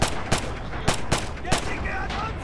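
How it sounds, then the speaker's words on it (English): A machine gun emplacement fires in a World War I battle game, with sharp repeated bursts at an uneven rhythm, loud and close, under a dense background of battlefield noise. "machine gun emplacement"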